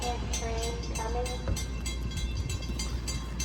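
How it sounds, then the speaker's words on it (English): A second commuter train, a six-car set, passes through Bethpage station at night with a steady, loud rumble, low hum and rhythmic wheel clatter, and a brief mechanical squeal partway through. "Second train coming."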